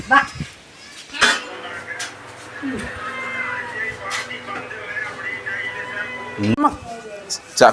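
A cat meows a few times over a busy room, with people talking and dishes and cutlery clinking nearby.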